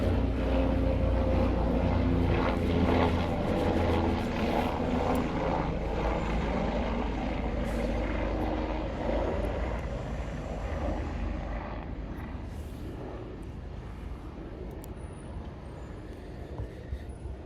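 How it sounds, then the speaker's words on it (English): Loud, steady roar of a jet aircraft passing overhead, filling the whole clip and slowly fading toward the end, with no talking over it. "let me wait until this jet go by"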